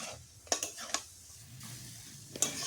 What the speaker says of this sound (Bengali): মোচাটা ভালোভাবে নেড়ে চেড়ে দিতে হবে।